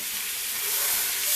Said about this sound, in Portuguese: Aqui agora nós vamos selar essa peça, deixando aqui ela na panela de pressão